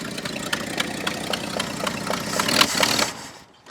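An old Ford truck engine, abandoned for 39 years, idles roughly with a leaking carburetor and squirting accelerator pump, a steady close ticking rumble that swells slightly before cutting off near the end.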